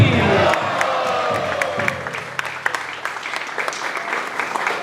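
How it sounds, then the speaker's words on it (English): A crowd at a Narasimha Chaturdashi devotional program in Singapore claps and cheers loudly at first, then the applause thins into scattered claps and a few shouts that fade over several seconds. "Please put your hands together for a very loud Haribol to Manish Prabhu ki!"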